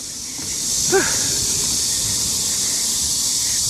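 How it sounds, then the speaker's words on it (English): Cicadas in trees make a steady, loud high-pitched buzzing drone that fills the air, with a brief faint chirp near the start. "Cicada making sound on the tree."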